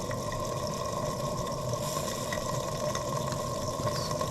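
A German showman's steam engine runs with its throttle valve closed, giving a steady, continuous mechanical hiss and low rumble at an even level throughout, with no talking.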